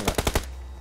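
Gunfire in a battle royale video game: a quick burst of four loud, close shots in under half a second, then a low fading tail, with no talk.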